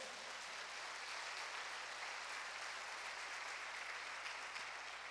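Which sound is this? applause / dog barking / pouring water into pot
applause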